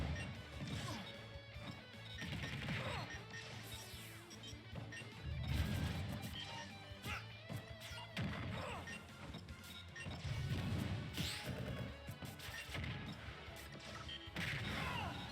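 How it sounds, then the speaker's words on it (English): Super Smash Bros game audio at a college match, with repeated crashing impacts and whooshes from smash attacks, dense and continuous throughout at moderate volume. "Avoiding that smash attack now."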